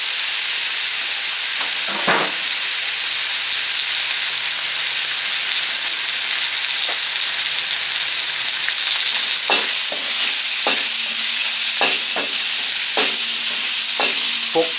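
Pork stir-fried in a wok gives a loud, continuous sizzling hiss up close, with sharp clinking scrapes of the spatula growing more frequent toward the end.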